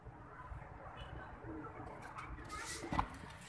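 Soft pigeon coos murmur in the background amid rustling and faint ambient noise, with a brief brighter burst near the end.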